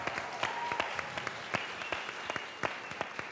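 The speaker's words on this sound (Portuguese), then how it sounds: "A salva de palmas." Live audience applause for members of a band on a Brazilian music show, scattered sharp claps standing out over a softer crowd wash, moderately distant with no talk.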